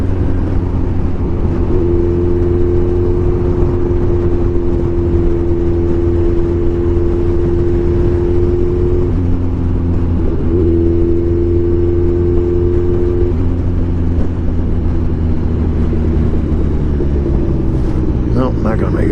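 2016 Kawasaki Ninja 1000 motorcycle cruising and pulling in sixth gear, a steady droning engine note that rises slowly through a long pull, close and loud with wind rumble, and a rider talks over it.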